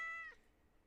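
A single cat meow from a kitten in the farming game Stardew Valley, short and fairly faint, with a bright harmonic cry that fades quickly into quiet.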